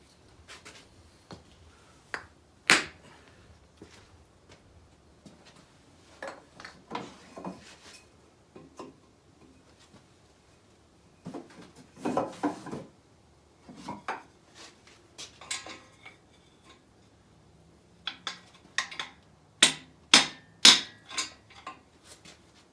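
A hammer taps a crankshaft, striking through a block of wood, to seat the two-piece rear main thrust bearing in a Chevy Mercruiser engine: irregular clusters of sharp, close knocks and clinks with quiet gaps between.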